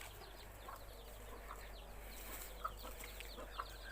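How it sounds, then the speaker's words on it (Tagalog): Faint chickens cluck and murmur against a steady low hum around feeding time, with a couple of brief sharper calls standing out near the end. "magpapakain tayo ng manok ko"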